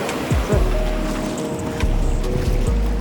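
Sea waves surge and crash against the fort wall at Malvan during a high monsoon tide, with repeated close, heavy washes and swirling water amid wind.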